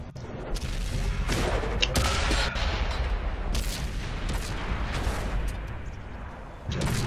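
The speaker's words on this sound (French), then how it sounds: "Ah voilà, voilà, artillerie." Heavy artillery shells from World of Tanks pound in with dull booms over a constant loud engine rumble, a few sharp impacts spread across the stretch, with no talk heard.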